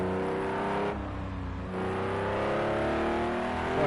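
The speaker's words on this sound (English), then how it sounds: "Man, I love the sound of that car." A GTO race car engine in a racing video game at Sonoma, holding a steady loud drone with a brief dip, then building in pitch as it revs back up.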